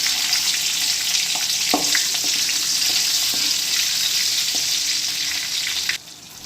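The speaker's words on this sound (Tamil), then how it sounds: "வெங்காயம் வந்து ஓரளவு வதங்கி வரட்டும்." Ten small onions with two dried red chillies sizzle and fry steadily in a pan for roasted raw mango rasam, a close, continuous crackle with a few stirring clinks before the sound cuts near the end.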